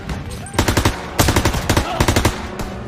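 Rapid automatic gunfire in a Call of Duty WW2 battle, loud bursts of rattling machine-gun shots in three clusters with brief pauses between, close and dense.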